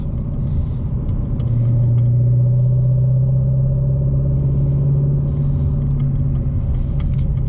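A stock-exhaust Shelby Mustang GT350 cruises in fifth gear along a backcountry road, its steady low exhaust drone and rumble heard from inside the car, holding an even note throughout with no talking.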